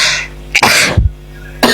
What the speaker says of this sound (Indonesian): Ikutan batuk dia.